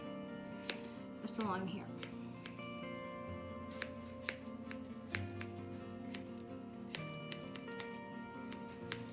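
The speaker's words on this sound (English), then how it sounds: "Then you want to take some of the fluff from the back of her foot here and trim this shorter" Small scissors snip the fur on the back of a dog's paw, a string of quiet, crisp clicks at irregular intervals while a person speaks softly nearby.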